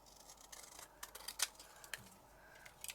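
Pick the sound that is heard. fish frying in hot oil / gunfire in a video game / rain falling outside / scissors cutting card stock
scissors cutting card stock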